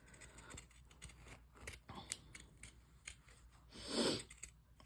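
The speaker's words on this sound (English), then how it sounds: "I'm just gonna take my pinking shears, and I'm going close to the stitch line" Pinking shears snipping fabric close to a stitch line on an embroidered stuffed toy, a soft close series of crisp cuts at an uneven pace, with one louder snip near the end.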